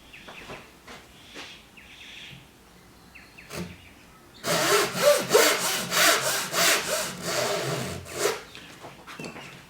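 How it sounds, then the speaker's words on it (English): Japanese hand saw rough-cutting the waste between wooden tenons on a framed asa-no-ha shoji piece, a run of fast, close rasping strokes after a few faint taps and clicks, with light birdsong in the background. "a rough cut in the middle down to the tenon line makes it easier to remove the"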